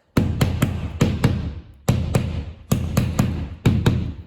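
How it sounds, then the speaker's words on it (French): A hammer taps gently at an electrical box being set into a wall, a close series of crisp knocks grouped in short runs, each with a brief ring fading before the next group. "prenez un marteau, tapez tout doucement."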